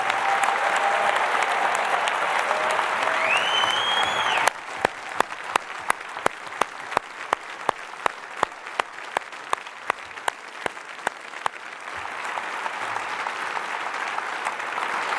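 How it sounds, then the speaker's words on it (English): An audience at the Massachusetts governor's State of the Commonwealth address gives the National Guard sustained applause, a broad roar of clapping with a middle stretch of sharp, evenly spaced claps before the crowd noise swells again. "give those folks the round of applause that they so richly deserve"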